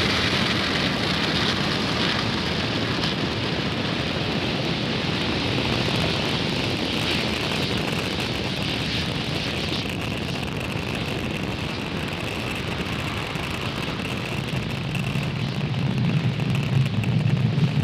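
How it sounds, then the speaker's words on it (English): A Falcon 9 rocket lifting off from Space Launch Complex 40 makes a steady, broad roar, a dense crackling rumble that holds at an even loudness throughout, with no voices over it. "Falcon 9 has successfully lifted off from Space Launch Complex 40 carrying the Astra 1P satellite."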